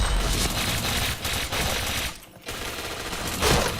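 Rapid automatic gunfire from the PointBlank first-person shooter game rattles in continuous bursts, briefly dropping out before resuming, fairly quiet in the mix with no talk over it.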